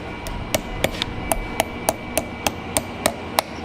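Metal struck with a hammer on an anvil while shaping a blow dart part, about a dozen sharp ringing blows in a steady, even rhythm, close and loud over faint background hiss.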